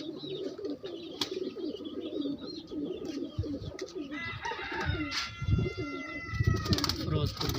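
Pigeons coo repeatedly nearby in soft, throaty rolling calls over a busy background, with a few sharp clicks and flutters along the way.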